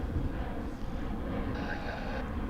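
American Airlines Boeing 737-800 jet at DFW airport, a continuous loud roaring rumble of engines with a rising whine partway through, heard from outdoors nearby.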